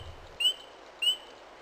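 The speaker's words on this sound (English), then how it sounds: "In spring, you're likely to hear birds sing early in the morning." Spring birdsong comes as two short, high chirps about half a second apart, faint against a quiet background.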